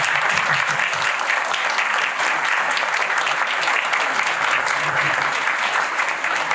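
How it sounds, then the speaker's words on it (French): An audience at a mayor's New Year address applauds the municipal workers with dense, sustained clapping that holds evenly throughout, with no voices above it. "les féliciter, les applaudir."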